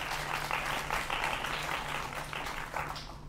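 Audience applause at a political speech, a steady wash of clapping for a few seconds with a low hum beneath.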